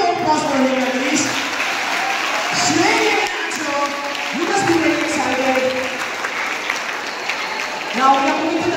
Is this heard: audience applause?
yes